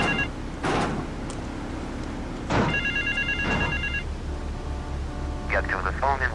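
A telephone bell rings in two separate bursts amid a radio commercial, with someone talking and a muffled thump partway through.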